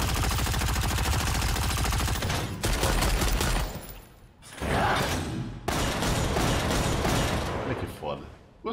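Rapid bursts of turret gunfire, missiles and booming explosions in Lost Ark, loud and dense, with a brief lull midway before the barrage resumes.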